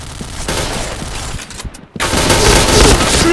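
Rapid automatic gunfire from the Point Blank shooter game, dense sustained bursts with a brief gap before firing resumes loud and close to the end.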